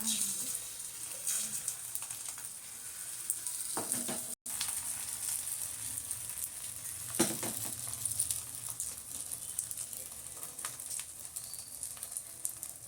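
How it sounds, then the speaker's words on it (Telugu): A batter mixture fries in hot oil as a soft, continuous sizzle, broken by a few light utensil clinks and one brief dropout. "ఆయిల్ వేడైన తర్వాత ఇది వేయాలి మిశ్రమం"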